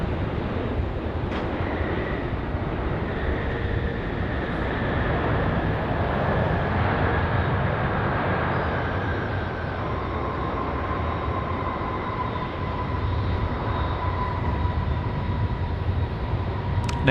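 A large airliner, an Airbus A380, lands at Sydney Airport on a foggy night, heard as a steady, sustained broadband roar with faint tonal whine lingering throughout, with no voices present.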